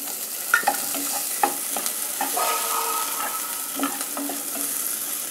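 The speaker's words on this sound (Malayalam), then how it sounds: "ഇനി ഈ രണ്ട് പച്ചമുളകും കൂടെ ചേർക്കുകയാണ്" Tomatoes and green chillies frying in a pan for white chickpea masala, a steady sizzle with intermittent stirring clinks and scrapes, close and moderately loud, no talking.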